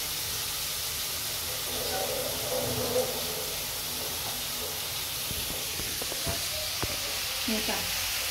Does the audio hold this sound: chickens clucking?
no